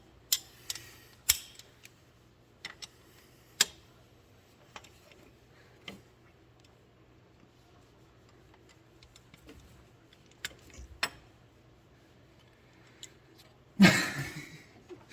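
A Matco ratchet on the injector bolts of a 7.3L Powerstroke gives sparse, quiet clicks and ticks spaced irregularly over a faint background hum, ending in a brief louder metallic clatter.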